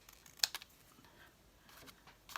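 Paper for an art journal is snipped with scissors in a few short, crisp cuts, quiet and close, with pauses between them and no talking.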